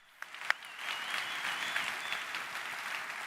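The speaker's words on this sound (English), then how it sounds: "let's give her a round of applause" An audience at a Bitcoin conference general session applauds, a few sharp claps at first swelling into steady, moderately distant clapping that carries on evenly.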